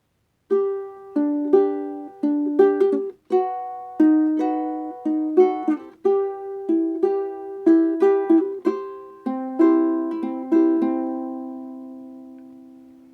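Plucked ukulele notes picked one at a time in a flowing chord pattern, clear and close, ringing out and fading at the end; no voices.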